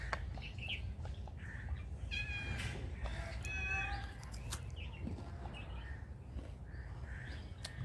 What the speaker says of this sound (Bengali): আমার বিড়াল দেখেন বিস্কুট খেতে চাই দিছি